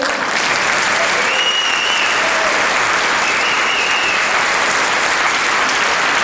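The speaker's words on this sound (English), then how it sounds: "Can we clap for that?" Concert audience at a St. Louis Civic Orchestra performance applauding steadily throughout, a dense, even wash of clapping from a full hall with a few faint voices underneath.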